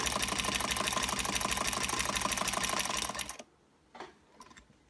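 A sewing machine fitted with a ZigZagger attachment stitches fabric in a steady, loud, fast mechanical rhythm for about three seconds, then stops, leaving a quiet room with a couple of faint handling clicks.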